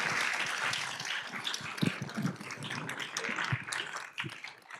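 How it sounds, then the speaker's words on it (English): Applause from an audience for a panel of speakers, a moderate crowd clapping continuously with scattered louder claps and thumps, fairly soft overall and tapering slightly at the end. "Big round of applause for our panelists today."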